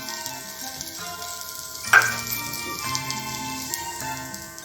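Ginger garlic paste with red chili sauce and soy sauce sizzles in hot oil in a pan, a steady soft frying crackle with a brief sharp clink of a utensil partway through.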